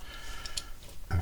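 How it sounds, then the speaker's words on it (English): A plastic D-pad part on an Xbox Series X controller clicks into place during a repair, giving a few light, sharp ticks close by and then a firmer snap near the end. "This should also click in place"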